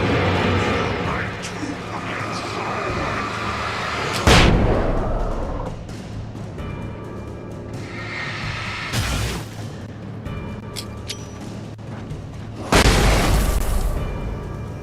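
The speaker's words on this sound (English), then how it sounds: "Flashbang." Flashbang grenades go off in the Alan Wake game, with two sharp, loud bursts several seconds apart and a smaller pop between them, over game ambience and some talk.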